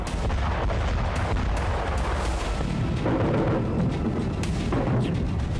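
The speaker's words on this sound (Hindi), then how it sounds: "क्रीमिया के उसी तट पर एक बार फिर भयंकर धमाके हुए।" Continuous deep rumbling booms and crackling blasts, dense and sustained, like distant heavy explosions rolling together without pause, on the Crimean coast near Sevastopol.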